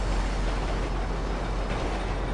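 A train in the game GTA rolls along with a steady, close rumbling drone and faint rail noise, continuous and even, with no talk over it.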